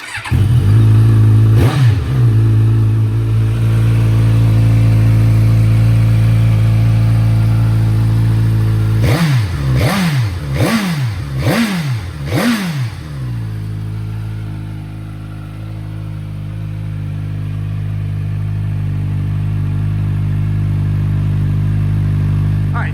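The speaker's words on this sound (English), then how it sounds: "Let's warm it up and try it out" A car engine on a dyno drones loudly at a steady pitch, then a series of sharp revs climbs and drops in quick succession before settling into a sustained hum; it is fitted with a cheap Temu exhaust.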